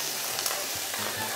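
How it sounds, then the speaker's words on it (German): Meat searing in a hot pan on the stove gives a steady, close sizzle and crackle that runs unbroken through the whole clip, with no talking over it. "Wenn das Fleisch etwa 3 Minuten angebraten ist"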